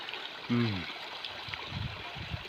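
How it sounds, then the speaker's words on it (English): Cold glacier meltwater stream flowing in a mountain meadow in Bagrot Valley, a steady broad rush close by, with a voice briefly speaking over it. "This is the glacier water."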